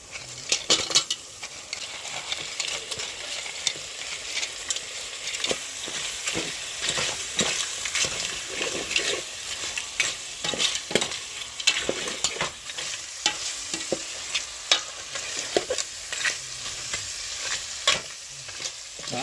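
Karsali sizzles and fries in a pan while a utensil stirs and scrapes it, giving repeated clinks and scrapes over a steady frying hiss, close up and with no talking.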